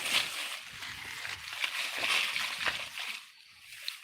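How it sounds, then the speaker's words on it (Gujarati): Irrigation water trickles and splashes steadily into a furrowed castor field bed slowed by weeds and leaves, a soft continuous wash heard close, with faint background noise. "આ પાટલામાં પાણી હાયલું આવે છે"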